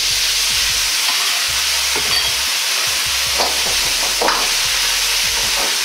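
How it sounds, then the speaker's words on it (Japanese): Fried eggplant, potato and pepper are stir-fried with a mixed sauce in a wok for di san xian, a Chinese home dish. A constant close, loud sizzle is broken by repeated scraping stirs, with no talk. "香りが上がってきたら、揚げた野菜を入れ、すぐに合わせ調味料を入れていきます。"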